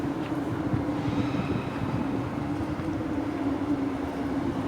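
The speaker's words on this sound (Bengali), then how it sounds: "হ্যাঁ, ওই দূরে ওখানে ট্রেন যাচ্ছে, ট্রেন লাইন।" A train runs along a distant railway line near Canary Wharf in London, giving a steady low rumble that holds even and continuous for a few seconds, with no speech over it.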